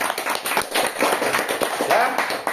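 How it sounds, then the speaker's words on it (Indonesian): An audience at a religious talk bursts into clapping, a dense patter of many hands, moderately loud and continuous throughout. "Tepuk tangan."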